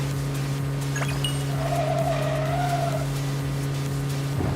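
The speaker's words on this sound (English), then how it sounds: "The tire noise does feel a bit Gran Turismo-esque." Tires squeal and skid in the racing video game Neverness To Everness, a sustained whine rising and falling over a constant engine drone, loud and continuous with no talking.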